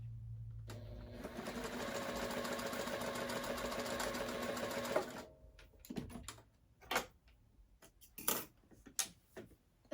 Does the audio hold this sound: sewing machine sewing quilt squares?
yes